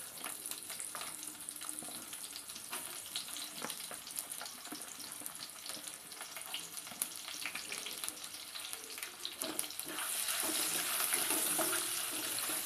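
Mushroom pulao base frying in a pan before the onions go in, a steady close sizzle with scattered crackles that swells louder and brighter near the end, no voices.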